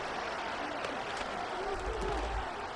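Stadium crowd at an NFL game, with Tua Tagovailoa and Elijah Moore playing on a 3rd and 2, roars as a steady wide wash of cheering that swells near the end, with broadcast voices talking over it.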